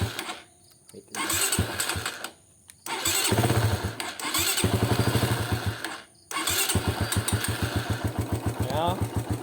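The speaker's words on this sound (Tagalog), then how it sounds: "Pakinggan nyo yung tunog ng makina." Rider 150 motorcycle engine with a ticking noise, starting hard and idling with a rapid pulsing throb, cutting out and restarting several times; faint voices in the background.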